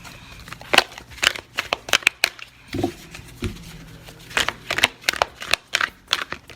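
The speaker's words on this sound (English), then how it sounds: "if it looks like my shuffling is crazy" Large oracle cards are shuffled by hand, giving a run of crisp irregular riffles and slaps up close, each burst short and sharp with quiet gaps between them.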